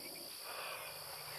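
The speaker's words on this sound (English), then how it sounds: "I can hear the buzz of all the mosquitoes" Mosquitoes buzz around a smoky jungle campsite in Borneo, a faint, steady high-pitched drone with no voices.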